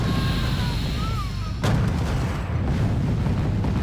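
A nuke goes off in a multiplayer strategy game, a sudden heavy boom that cuts through an already loud, dense battle roar of constant rumbling gunfire and blasts.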